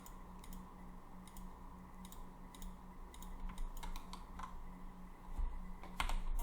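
Computer keys pressed on a keyboard while drawing polygons in Houdini software, several light, quick clicks in scattered bursts, close and quiet over a steady hum.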